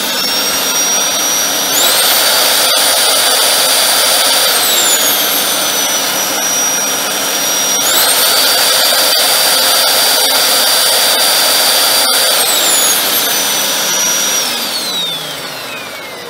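A Dyson DC04 Zorbster upright vacuum cleaner, refurbished, roars at full power with a loud, steady high-pitched motor whine and airflow rush that shifts pitch a few times and then winds down at the end.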